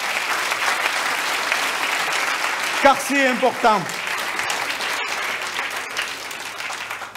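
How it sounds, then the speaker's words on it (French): Applause from an audience at a mayor's New Year address in Port-Saint-Louis-du-Rhône, steady clapping from a crowd throughout, with someone speaking briefly over it midway. "J'aimerais donc qu'on ait un moment d'applaudissement pour celles et ceux qui nous protègent et qui nous accompagnent"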